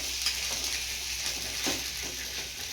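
Thalipeeth flatbread roasts on a hot pan over high flame, a steady close sizzle with soft crackles and a few brief scraping touches, no voices present.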